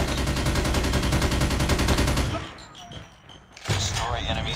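Rapid automatic gunfire from an NA-45 in a Call of Duty Mobile Hardpoint match, a dense sustained burst for about two seconds that drops to quieter game noise before a final sharp report.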